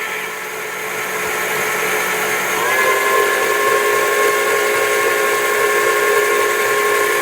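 Electric mixer whirring steadily as vanilla is blended into a key lime pie topping, a loud continuous motor hum and hiss that shifts slightly in pitch partway through, with no talk.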